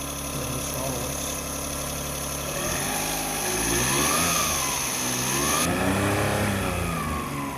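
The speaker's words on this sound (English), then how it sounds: "Maybe when you rev it up. Let's see if I can rev it up here a little bit." A hot hatch car engine revs up and settles in two or three throttle blips over a steady idle, close and fairly loud, with no talking.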